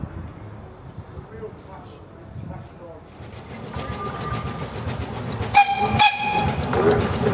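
The Wee Georgie Wood heritage train on Tasmania's Don River Railway rumbles closer with rising mechanical clatter, a couple of sharp whistle blasts near the end, and voices chatting quietly in the background.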